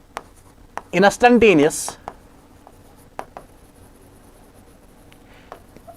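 Marker or chalk writing on a board in a chemistry classroom, a few scattered short strokes and taps, faint and close, with someone speaking briefly over it near the start.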